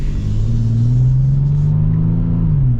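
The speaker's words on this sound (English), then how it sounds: "because you hear the exhaust a little bit more, it almost feels like you're going faster" Exhaust note of a 2024 Toyota 4Runner TRD Pro, a loud, deep steady rumble that swells slightly as the engine revs, heard close and alone without talk.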